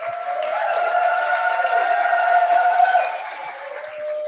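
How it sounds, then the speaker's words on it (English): Sustained applause from a conference audience at a Laguna Beach gathering, a steady dense wash of clapping lasting several seconds before thinning out near the end. "Another round of applause for Garrett Duncan"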